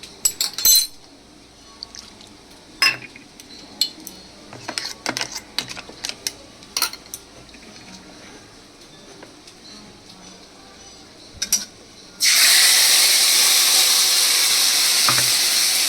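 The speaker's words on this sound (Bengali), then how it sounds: "এবার এইটা আমি মশলাটা এর মধ্যে দিয়ে দেবো।" A paste of tomato, green chili, cumin and coriander hits hot oil in a pan while cooking gathi kochu, bursting into a loud, steady sizzle after scattered clinks and light kitchen handling sounds.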